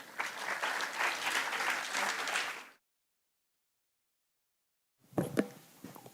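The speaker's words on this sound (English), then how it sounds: "We welcome her with a huge round of applause," A large student audience at a college inauguration event gives a speaker a big round of applause that cuts off abruptly, followed by silence and then a few scattered claps and noises.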